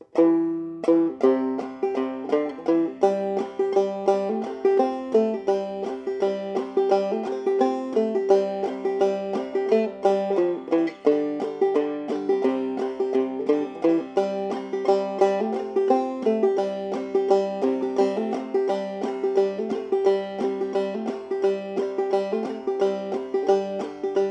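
Bright clawhammer banjo picks out the melody of "Big Rock Candy Mountain" with a bouncy, rolling rhythm, played alone and close up for the whole stretch.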